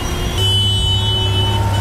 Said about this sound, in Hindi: संडे के दिन में वैसे ट्रैफिक है